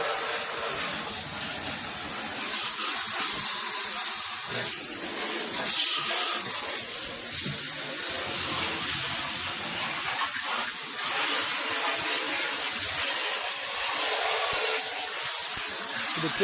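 Water sprayed to wash out the interior of a Honda car, a steady loud hissing rush with splashing running continuously and close, no talking.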